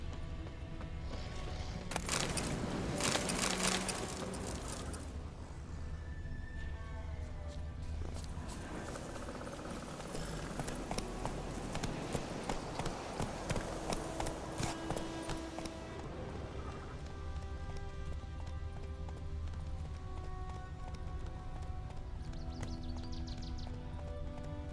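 A horse gallops in the Witcher 3 video game, its hooves making a steady, rhythmic clip-clop that stays fairly close and continuous, with some whooshing and rustling layered over the hoofbeats.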